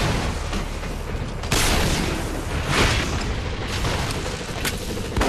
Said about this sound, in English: Your AA turret is nothing for my magnum pistol.